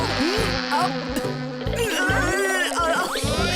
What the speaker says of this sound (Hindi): मक्खी